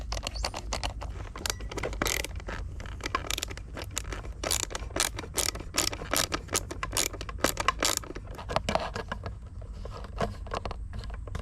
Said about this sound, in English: That's the first time I've screwed it in so easily